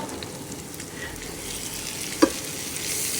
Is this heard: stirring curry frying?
yes